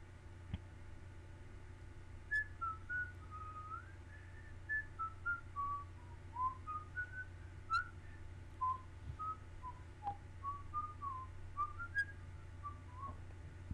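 Someone whistles a bouncy melody softly, short notes hopping up and down in quick phrases over a faint background hum.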